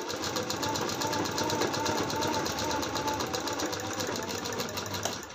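A sewing machine runs steadily while stitching piping onto a long-sleeved blouse, giving a continuous, even mechanical whir with a fast stitching rhythm and no pauses.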